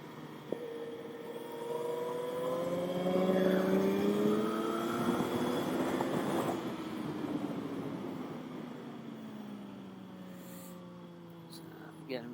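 A 2013 Aprilia Tuono V4 motorcycle engine on a track rises smoothly in pitch as the throttle rolls on, then eases back down, a steady close whine with wind noise and a voice over it.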